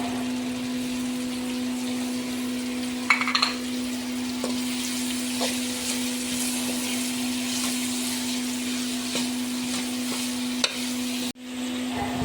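Chopped cabbage, about 200 grams, stir-frying in a pan for restaurant-style Chinese chicken and vegetable fried rice, a steady close sizzle with a constant hum throughout and occasional clinks and scrapes, no one talking.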